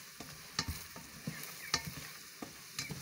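Dry spices are stirred into hot oil in a pan for a fish-and-potato dish, soft sizzling broken by several sharp scraping spoon strokes at irregular intervals, fairly quiet overall.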